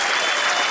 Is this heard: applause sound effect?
yes